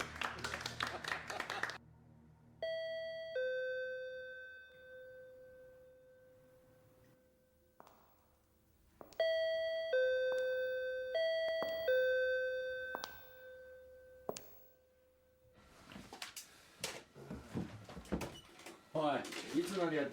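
Several ringing doorbell chimes sound from a film scene, spaced over the clip, with some single tones and some quick repeated tone sequences. Quiet muffled room noises and rustles fill the pauses.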